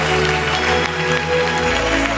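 Church congregation clapping their hands together, a dense continuous wash of applause mixed with music, loud and sustained throughout.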